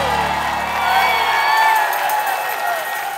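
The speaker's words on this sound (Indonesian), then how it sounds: "Kasih tepuk tangan buat Teana." Studio audience claps and cheers for a contestant on a game show, a lively burst of crowd applause with whoops while background music cuts out partway through.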